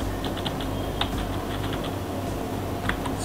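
Quick, light clicks of typing on a computer keyboard in a steady, close-up run over a soft background hum.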